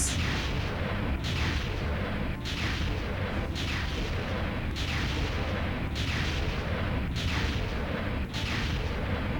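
Rocket fire in the Nintendo 64 shooter Jet Force Gemini: a dense, continuous roar of blasts with sharp bursts repeating roughly every second, loud and close, with no talk over it.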